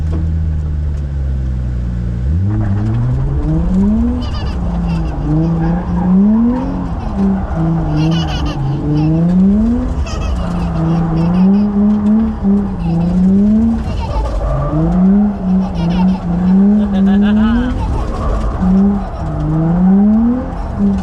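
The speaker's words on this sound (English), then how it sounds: "Ready to do some burnouts?" Car doing burnouts and donuts with tires skidding, heard as a continuous engine roar with rising and falling revs throughout, while excited voices shout and cheer over it.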